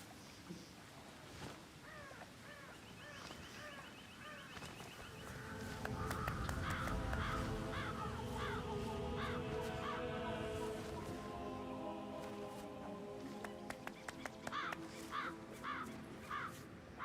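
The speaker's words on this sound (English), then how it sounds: "I'll never get rid of those stupid birds." Crows caw repeatedly in a loud, ragged chorus, several birds calling at once in uneven bursts that thicken midway and keep going over a steady outdoor background with scattered sharp knocks.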